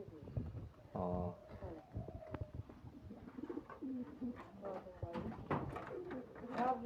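Rajshahi giribaz and Pakistani pigeons coo repeatedly at close range, their soft throaty calls overlapping in an irregular rhythm with a few faint background knocks.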